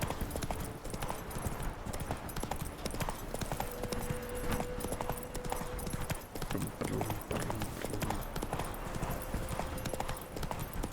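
Horse trotting in the video game The Witcher 3, a steady rapid clip-clop of hooves running throughout, close and even, with faint game ambience behind it.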